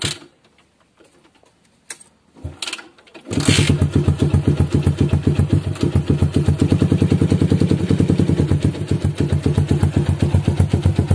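A motorcycle fitted with a 30 cm DOS muffler exhaust starts after a few clicks and knocks, then settles into a loud, close, rapid and steady rhythmic idle thump.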